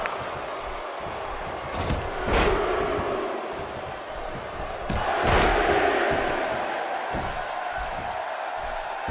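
Roaring crowd at a street fight, swelling in two loud waves of cheering with sharp impacts mixed in, under a continuous noisy arena wash.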